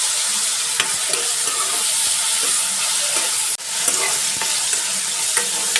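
Brinjals and tomatoes frying in a pan, a loud steady sizzle close by with intermittent clicks and scrapes of stirring and a brief dropout midway.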